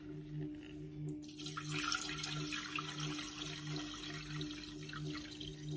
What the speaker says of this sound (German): Füllen wieder 500 Gramm Wasser ein.